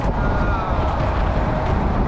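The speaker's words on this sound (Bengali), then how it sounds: "বাতাসে মনে হচ্ছে উড়িয়ে নিয়ে যাবে, এত বাতাস।" Strong wind roars steadily at the open door of a moving passenger train bound for Cox's Bazar, a loud, continuous rushing buffet close to the microphone with no talking.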